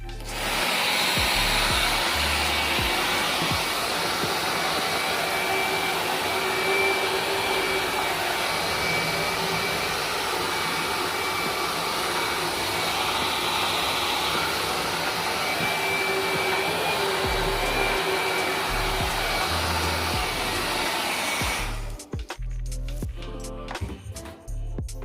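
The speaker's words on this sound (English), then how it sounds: "So I have my blow dryer." A handheld blow dryer runs steadily for about twenty seconds, heating peel-and-stick contact paper wrapped over rounded kitchen cabinet shoe molding, then clicks off, leaving a few soft handling knocks.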